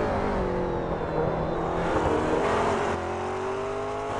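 McLaren race cars in a racing video game run hard over the curbs, engines droning loud and continuous with rising and falling revs throughout.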